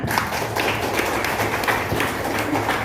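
A classroom of students claps together in a dense, steady burst of applause, loud and close, with no pauses for about three seconds.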